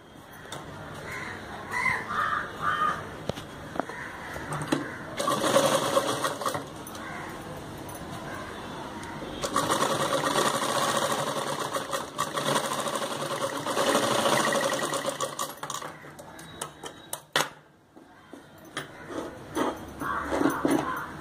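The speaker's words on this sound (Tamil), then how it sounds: "லெஃப்ட் சைடில் அடியில் வச்சு தைக்கணும்." Sewing machine stitching the body of a blouse, running in several bursts of fast, even mechanical whirring separated by quieter pauses with handling noises, moderately close.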